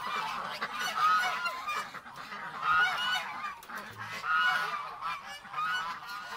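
Loud honking calls from ducks repeat in steady bursts every second or so, close by and outdoors, with no voices.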